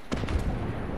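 A single gunshot echoes in the Fortnite video game, a short sharp crack with a booming, rumbling tail that fades out within a second.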